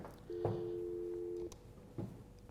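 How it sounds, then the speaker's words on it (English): A single steady electronic ringback tone sounds for about a second on an office desk phone connected to an Epygi unit, faint and close, with soft clicks of handling before and after. "I can actually phone between them at this point in time"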